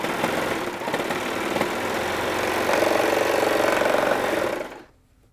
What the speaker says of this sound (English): The serger machine is the quickest way to make a t-shirt.